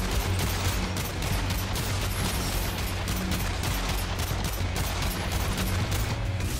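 Continuous heavy gunfire in the Agents of Mayhem shooter, a dense, loud barrage of rapid shots sustained without pause, with explosive thumps mixed in and no talking.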